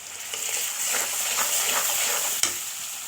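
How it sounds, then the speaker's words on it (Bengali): Vegetable stalks fry with salt, turmeric, chili powder and garlic paste in a hot pan, giving a loud, continuous sizzle with scraping stirs and a sharp clack of a spoon near the end. "ডাটাগুলো দিয়ে দিয়েছি, এবার কষিয়ে নেব"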